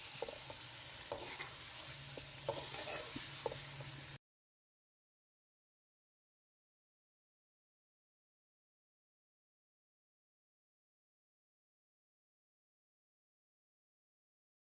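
Chicken karahi frying in hot oil in a karahi, a soft steady sizzle with light stirring scrapes, close and moderately quiet, ending abruptly after about four seconds.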